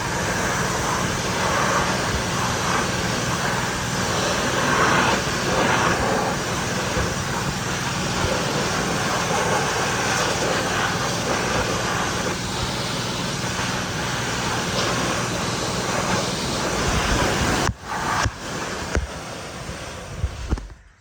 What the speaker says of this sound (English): This is just with water, cold water rinse.